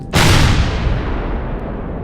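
Defense turrets in the Empyrion Galactic Survival sci-fi game fire a loud, booming blast that decays into a long rumbling tail, with a fainter follow-up crack.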